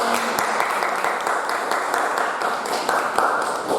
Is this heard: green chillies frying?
no